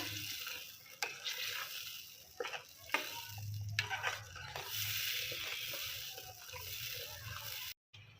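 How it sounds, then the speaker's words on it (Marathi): Black masala being stirred into mutton curry in a pot, a scattering of soft scrapes and sizzling over a steady low hum, fairly quiet, ending in a brief cut to silence. "आता हा मसाला व्यवस्थित याच्यात मिक्स करून घ्यायचा"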